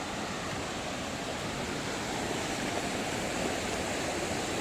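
A river rushes past close to its bank near Tabakoshi village in North Bengal, a constant, unbroken broadband roar at moderate level with no talk over it.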